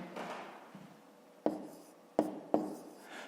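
A pen scratching across paper while working a fifth-grade math exercise, soft continuous strokes broken by a few sharper taps, close and quiet.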